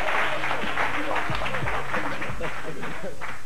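A Spanish TV studio audience gives a loud round of applause for a musical group, steady dense clapping with low tonal music or hum underneath and some voices mixed in.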